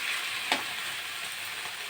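Snake gourd with shrimp sizzles steadily in a hot pan, a dense constant frying hiss with one brief scrape of stirring near the start, close and loud with no voices.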